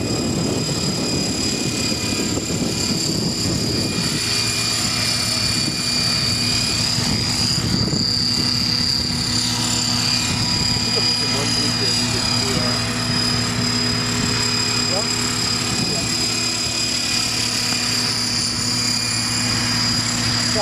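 Outrage FBL radio-controlled helicopter in flight, a steady high-pitched rotor and motor whine with strong tonal hum that stays loud and constant throughout, with faint voices in the background.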